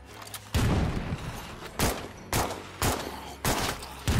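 Four or five loud, sharp gunshots ring out at an uneven pace, each a broadband crack with a short tail, from a firearm in the zombie-survival video game State of Decay 2.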